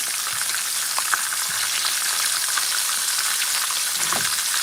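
Haitian boulettes fry in a pan with a steady, dense sizzle of hot oil, a few faint pops and scrapes as the pieces are moved around, continuous and close throughout.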